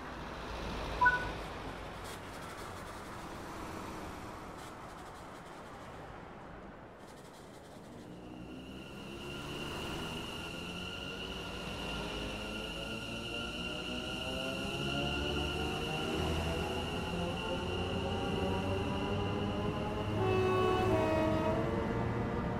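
A London Overground train in Train Sim World 4 pulls away, its electric motor whine rising steadily in pitch over a low rolling rumble, with a brief clunk near the start and a sustained tone alongside.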